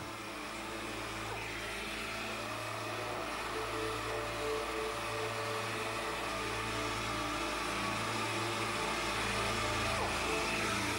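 An orbital sander chamfers the plastic around a crack in a Peugeot Citroën part, giving a continuous, fairly loud whirring drone with a low motor hum that holds steady throughout, no voices.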